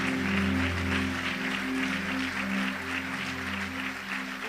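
A church congregation claps during a sermon, a broad wash of applause from many hands over a sustained organ or keyboard chord, steady and moderately loud throughout.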